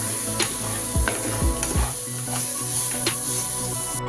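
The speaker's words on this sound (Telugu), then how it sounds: "2 టమాటాలు వేసేసుకొని ఇంకా ఉడికించుకోవాలి." Tomatoes fry in a hot pan for egg bhurji masala, giving a steady close sizzle broken by a few scraping stir strokes. No one speaks.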